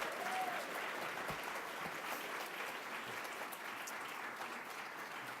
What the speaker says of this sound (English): Please let's give Heather, Dave, Maritza, and Jasmine another round of applause.